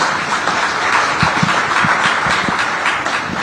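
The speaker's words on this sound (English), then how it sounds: "A big round of applause for this one." Steady, dense audience applause fills a live science talk event for the She Shakti 2024 stage program, loud and continuous throughout with many hands clapping.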